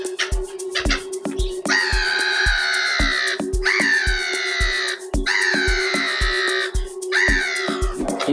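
A crow caws repeatedly and loudly nearby, long harsh wailing calls in steady succession, over a constant low hum and a regular ticking pulse, with no one talking.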